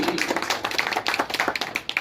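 Brief scattered clapping from an audience at a stage speaking event, a few quick sharp claps in an uneven rhythm, fairly soft and alone.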